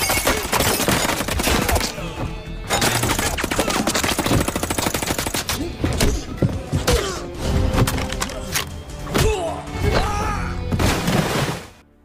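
Rapid bursts of gunfire fill an action-film shootout in which a woman is shot in the stomach, loud dense volleys mixed with thuds and impacts, with no talk over it.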